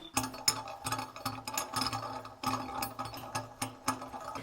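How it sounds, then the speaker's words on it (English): A long screw being driven into a sink basin drain, with a steady run of close, clicking ratchet-like turns in quick rhythmic bursts. "Okay, the long screw goes in there."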